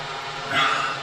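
An electric kettle heats water nearby with a steady, airy hiss that swells briefly partway through, heard alone and moderately quiet.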